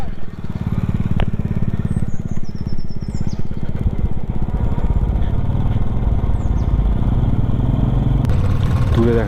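Motorbike engine running steadily up close on a winding mountain road in Arunachal Pradesh between Shergaon and Dirang, a continuous mid-pitched drone with small rises and dips, loud and constant throughout.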